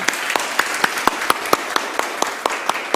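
A standing church congregation claps together in a regular, evenly spaced rhythm, each sharp clap clearly distinct and fairly loud in a reverberant hall.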